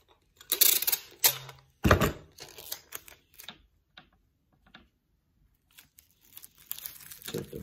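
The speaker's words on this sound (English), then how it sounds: "Okay, so I tape the top." Packing tape pulled and torn from the roll and pressed onto a plastic trash bag kite, close-up crinkling and ripping bursts with quieter gaps between.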